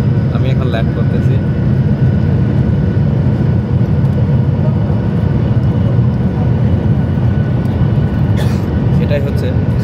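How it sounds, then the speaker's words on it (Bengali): Airplane landing at Langkawi International Airport, heard from inside the cabin as a loud, constant engine and airflow roar with rumble throughout, while a person speaks over it. "আমি এখন ল্যান্ড করতেছি।"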